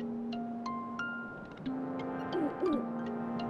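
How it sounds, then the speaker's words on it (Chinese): In Zelda: Link's Awakening, the owl appears to a string of short, clear tonal blips and gliding musical notes. The sequence is brief and close, with a soft game background underneath. "啊，不，猫头鹰又来了，我们听他说什么"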